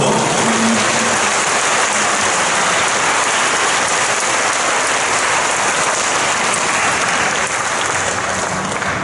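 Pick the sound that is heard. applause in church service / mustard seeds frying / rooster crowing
applause in church service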